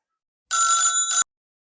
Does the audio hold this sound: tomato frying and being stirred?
no